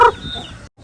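A native chicken gives a short, close cluck, followed by a brief fainter sound after a moment of silence.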